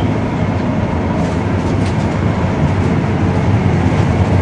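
Steady, loud rumble of a passenger train riding on rails between Stockholm and Paris, a constant low roar with faint rhythmic clatter throughout, heard from inside a carriage.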